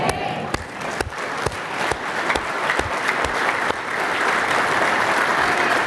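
Audience applause at a religious gathering, a steady, dense wash of many hands clapping that keeps going and grows slightly louder toward the end, with a few sharper individual claps standing out.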